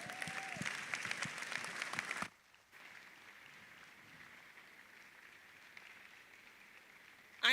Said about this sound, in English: I'm going to ask us to do that applause again because it's not reflective of the word we just heard